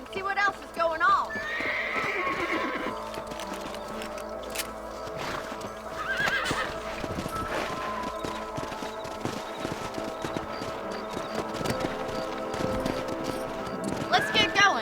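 Horses in the Red Dead Redemption video game whinny and neigh repeatedly while hooves clip-clop steadily underneath, close and prominent, with a shrill neigh near the start and another at the end.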